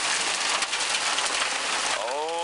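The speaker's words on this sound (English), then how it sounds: "And the hail's just a hammering on." Hail hammering down during a thunderstorm in Bristol, Tennessee: a dense, steady roar of countless impacts at close range that never lets up, with a faint rising tone near the end.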